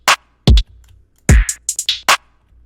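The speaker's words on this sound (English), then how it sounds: "Got some nice sounding hi-hats in there" Crisp, bright trap hi-hat hits, made with stock plug-ins and an out knob turned up, in a syncopated pattern, a few isolated ticks followed by a quick cluster, with some punchy low thumps underneath.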